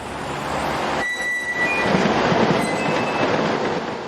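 An SNCF passenger train hauled by a Class 26000 electric locomotive rolls past loudly, with a rumbling rush of wheels and a brief high wheel squeal, the roar holding steady close by.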